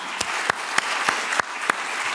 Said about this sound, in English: Can we get another round of applause for all of those speeches?